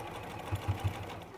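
A sewing machine stitches over pinned quilt seams, giving three brief low stitching bursts over a steady quiet hum, close by and soft.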